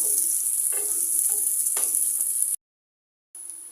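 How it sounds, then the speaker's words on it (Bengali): A tempering of cumin, garlic and chopped onion fries in oil for masoor lentil dal, giving a steady, close hiss with a few soft stirring bursts, then cutting out briefly before the sizzle returns. "ডালে ফোড়নটা ভাজা হয়ে গেছে"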